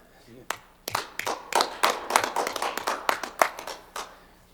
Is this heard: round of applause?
yes